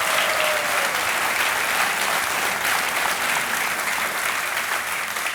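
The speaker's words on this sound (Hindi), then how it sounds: "इसके लिए हम आपका अभिनंदन करते हैं और तालियों के साथ स्वागत" Studio audience on the KBC (Kaun Banega Crorepati) Season 10 quiz show applauds a contestant, a dense, steady wash of clapping that stays loud and even for about five seconds with no talking.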